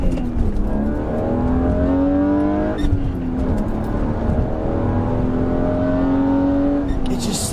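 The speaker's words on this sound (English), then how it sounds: "that inline S52 engine just screams." A BMW M3 with an inline S52 engine and cold air intake revs hard toward redline, a loud rising whine that drops and climbs again, with a voice talking over it.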